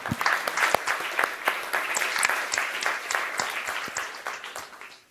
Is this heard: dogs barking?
no